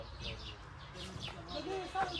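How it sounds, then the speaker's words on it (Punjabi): Quick, high chirps of sparrows repeat in scattered bursts, fairly faint and distant over a low background hum, in a village in Afghanistan. "ਚਿੜੀਆਂ ਦੇ"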